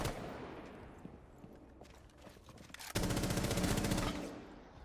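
Gunfire in the video game Rainbow Six: a few scattered shots, then a sudden sustained burst of rapid automatic fire that dominates the final seconds at close range.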